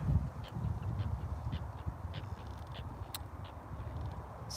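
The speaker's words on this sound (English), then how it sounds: "over here we've got some small ducks in the water" Small ducks on the water quack in faint, scattered calls over low outdoor background noise during an evening walk in Henderson, Nevada.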